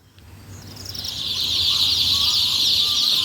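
Chicks on a poultry farm in Kenya cheep and chirp continuously, a dense high-pitched chorus that swells in loudness and then holds steady, close by, with no talk.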